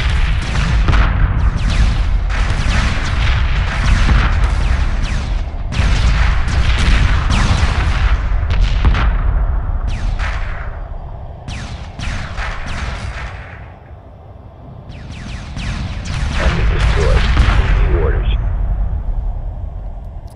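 Space combat in Homeworld Remastered: repeated loud bursts of explosions and weapon fire in clustered volleys, dipping briefly before swelling again, with a voice speaking over parts of the battle.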